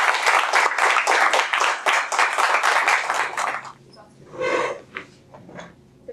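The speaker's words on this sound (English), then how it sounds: "Please give a warm applause." Applause from a Toastmasters meeting audience, dense and fairly loud for about three and a half seconds, then fading into a few scattered claps, rustles and breathy noises.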